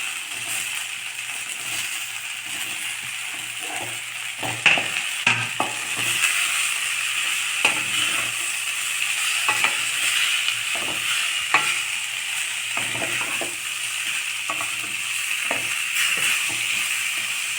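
Sliced radish and moong dal sizzle steadily in a hot pan, with a constant hiss broken by scattered scraping clicks of stirring throughout, no voices present.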